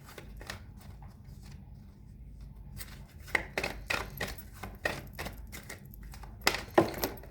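A deck of tarot cards being shuffled by hand, heard as a run of crisp riffling bursts and soft flicks that come in irregular clusters, close and fairly quiet, with no talking.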